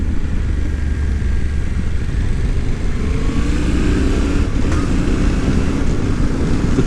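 A new motorcycle is ridden with its engine close and loud, a steady drone that rises in pitch as it accelerates partway through, under rushing wind.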